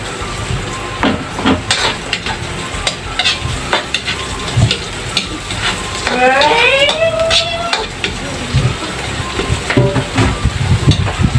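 Onions frying in a pan for a home-style lumpiang hubad, a steady loud sizzle with frequent stirring and scraping clatter of a utensil against the pan throughout.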